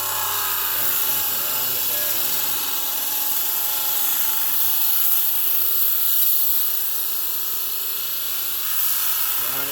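A diamond wheel grinds the edge of a stone while polishing it, giving a loud, continuous, high-pitched whine with gritty scraping, and a voice talks over it.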